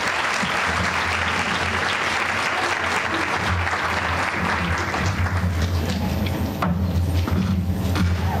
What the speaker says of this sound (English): please give a warm welcome and a round of applause to Shaykh Abdul Nasir Jangda